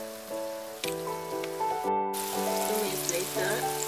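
Cornstarch-dusted tofu frying in oil, a steady close crackling sizzle like rain on a surface, with a brief break partway through and tonal kitchen noise underneath.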